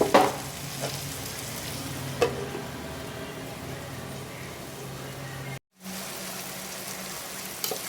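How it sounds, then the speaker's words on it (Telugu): Eggplant curry with turmeric being mixed in a pan: a quiet, continuous sizzle with a few scraping stirs near the start, heard close up without speech. "ఇలా ఒకసారి మిక్స్ చేసుకొని మూత పెట్టుకొని మగ్గించుకోవాలి"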